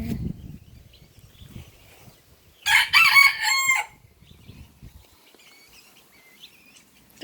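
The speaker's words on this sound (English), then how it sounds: "The little rooster's up there." A small rooster crows once, a single loud, clear cock-a-doodle-doo lasting about a second, close by in an otherwise quiet outdoor setting with faint low rustling before it.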